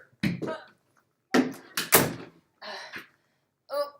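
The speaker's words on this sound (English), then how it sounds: "Cat opened the door." A cat pushes a door open indoors, making several knocking thuds and creaks in irregular bursts, fairly close, with the final brief rattle separated by quiet gaps.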